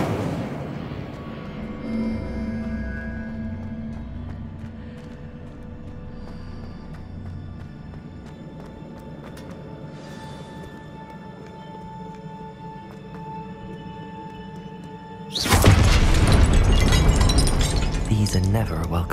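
An Incendio fire spell cast in Hogwarts Legacy on PS5 bursts in as a sudden, loud, roaring blast near the end, after a long stretch of quieter in-game ambience and tones.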